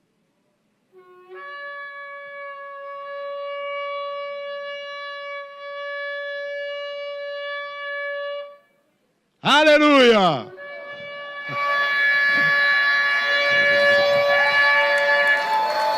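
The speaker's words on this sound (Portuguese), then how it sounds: "Chofar, o chofar." A shofar is blown during a church service, first as one long, steady horn blast of several seconds, then after a pause as short wavering bursts. Loud congregation noise and a shout follow.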